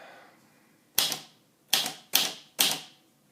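An Underwood 319 manual typewriter types four sharp, loud key strikes at an uneven pace, each a crisp close clack with a quick decay.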